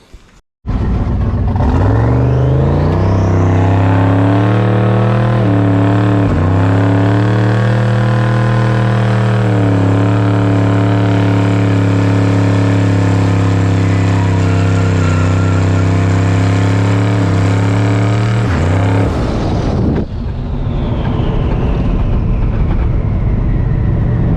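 A car engine starts and runs steadily for about twenty seconds, loud and close, with slight rises and dips in pitch as it is driven slowly out to an outside parking bay, then cuts off.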